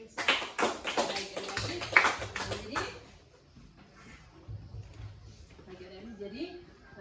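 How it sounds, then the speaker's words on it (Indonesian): A classroom audience applauds a student with a short burst of clapping that lasts about three seconds, and then a voice talks. "tepuk tangan untuk Reza."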